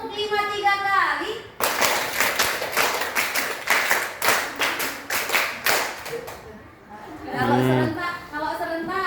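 A group of teachers at a training workshop claps in unison in a patterned rhythm, repeated sets of five quick claps, loud and close, with voices talking before and after the clapping.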